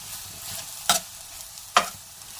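A spatula stirs a capsicum and mayonnaise wrap filling frying in a pan. Two distinct scraping strokes cut through a soft, steady sizzle, close up with no talk.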